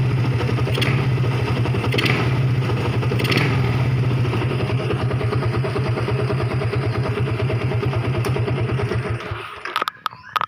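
A motorcycle engine fitted with a PE carburetor runs close by, a steady rapid putter with three short throttle blips early on, then falls quiet before a few clatters near the end.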